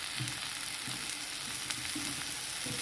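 Onion, garlic and brinjal sautéing in a pan, a quiet continuous sizzle with faint soft stirring scrapes, close and steady, no voices.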